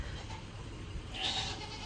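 A single short goat bleat sounds on a farm, fairly faint against a steady background hiss, rising briefly near the end.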